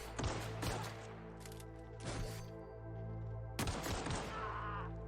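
Video game gunfire in several quick clustered bursts of sharp, crackling shots, separated by brief pauses over a low droning background, fairly faint overall.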